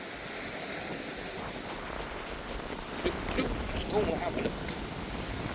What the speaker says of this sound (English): It's very windy, isn't it? Really windy.